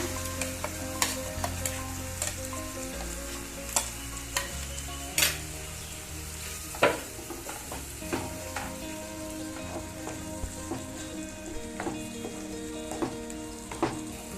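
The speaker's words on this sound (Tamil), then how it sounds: "இப்போ நம்ம போட்ட காளான் வந்து நல்லா வதக்கிக்கலாம், பட்டர்ல நல்லா வதக்கிக்குங்க." Sliced mushrooms sauté in butter in a pan, giving a steady soft sizzle close by. A spoon stirs and scrapes against the pan now and then, making occasional sharper clinks and taps.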